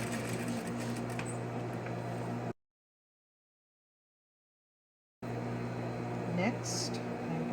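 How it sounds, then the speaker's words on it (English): Sewing machine stitching a fabric face mask: a steady mechanical motor hum runs continuously, breaks off into a stretch of silence, then resumes at a similar level. "So I'm going to sew here"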